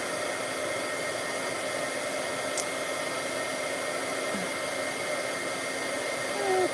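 A heat embossing tool blows hot air steadily for stamping work, an even close whirring hiss lasting throughout.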